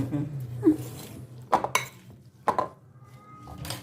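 Salad of pansit-pansitan and garden vegetables tossed in a bowl, with a few sharp clinks of utensils against the dish over soft rustling, close and moderately loud.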